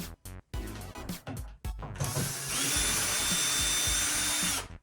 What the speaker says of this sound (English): If you have a cordless drill, it makes it go much faster